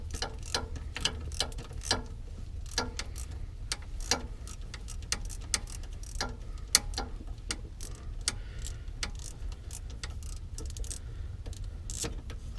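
A hand ratchet backs a long screw out of the oil filter adapter on a Ford Crown Victoria, giving a steady run of close, sharp clicking pawl strokes over a low engine-bay rumble, with no talk.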